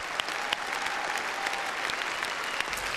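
Conference-centre audience applauds steadily as a speaker enters, a dense continuous wash of many hands clapping, fairly close and even in loudness throughout with no voices standing out.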